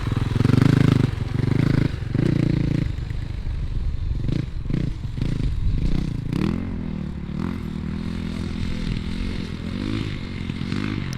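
A 450 motorbike ridden by a learner: a loud, close engine that drones heavily at first, then sputters and revs unevenly with shifting pitch, mixed with some clattering.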